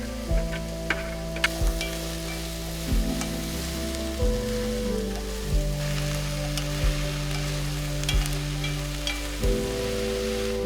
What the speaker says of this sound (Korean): 썰어둔 채소를 모두 넣어 양파가 투명해질 때까지 볶는다.